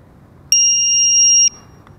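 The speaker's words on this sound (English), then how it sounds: "let's put on my battery alarm." A multicopter's battery alarm gives a single loud, steady electronic beep lasting about a second, clean and piercing against a quiet room.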